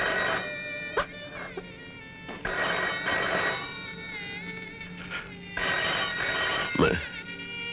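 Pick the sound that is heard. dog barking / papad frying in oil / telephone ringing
telephone ringing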